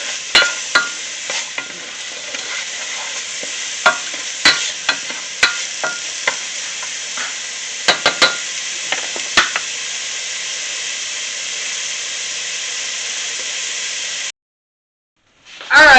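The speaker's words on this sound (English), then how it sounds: "sweat out the onions and peppers just a little bit" Onions and peppers sweating in a hot pan give a steady, bright sizzle with intermittent spoon scrapes and clicks, holding evenly before cutting out abruptly near the end.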